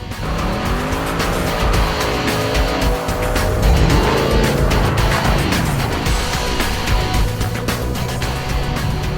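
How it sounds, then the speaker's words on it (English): A 2008 Mercedes-Benz C63 AMG V8 engine roars and revs hard, its deep exhaust note rising and falling as it accelerates, loud and close, with tire noise mixed in. "along with that acceleration is that glorious V8 exhaust note"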